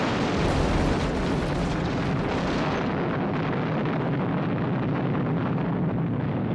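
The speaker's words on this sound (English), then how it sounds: "it was paid off with a satisfying explosion." A big special-effects explosion from the classic Thunderbirds puppet TV series, a loud sustained roaring blast with deep rumble that slowly decays over several seconds, heard alone.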